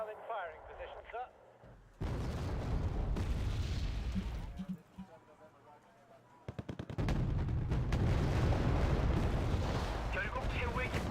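Missile launch in the video game Wargame, a heavy roaring blast and rumble that swells, dips, then surges again louder, with voices and battle noise around it.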